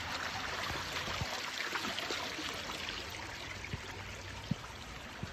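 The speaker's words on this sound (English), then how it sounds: "We're gonna cross this creek right here." Creek water flowing along a woodland hiking trail in Georgia, a soft continuous trickling wash with occasional small splashes or knocks, faint and even.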